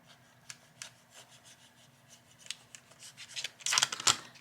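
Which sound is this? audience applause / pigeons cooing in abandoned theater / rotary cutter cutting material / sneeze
rotary cutter cutting material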